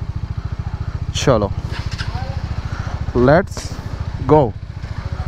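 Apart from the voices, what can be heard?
Hero Xpulse 200 motorcycle engine running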